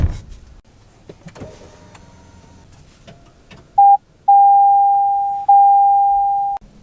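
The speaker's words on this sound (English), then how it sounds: "Steering wheel's power adjustable." Power-adjustable steering wheel motor in a 2023 Toyota Venza Limited cabin, a few soft clicks and rustles, then a short whirring burst followed by two longer steady electric motor hums, close and clear without speech.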